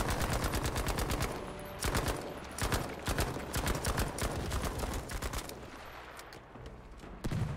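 Submachine gun fire in Battlefield 5 WW2 multiplayer, rapid automatic bursts rattling nearly continuously and loudly, with short pauses between long strings of shots.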